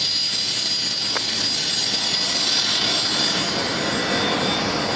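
A Fokker airliner's engines roar at a nighttime airport, a steady broadband whoosh with a high whine, loud and constant throughout, slightly harsh as the engines point straight at the microphone.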